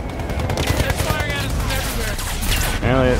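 Rapid enemy gunfire in Battlefield 1, close and loud machine-gun bursts and rifle shots overlapping in a dense fusillade, with voices talking over the shooting.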